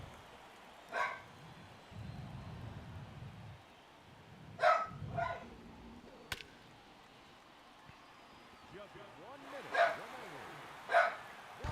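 A pet dog named Porfy barks in short bursts indoors in a home studio, several sharp barks spaced apart at moderate distance, with someone talking over and between them.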